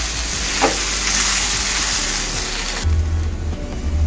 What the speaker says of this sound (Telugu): చూడండి ఇలా కలిపేసుకుందాం కదా మొత్తం.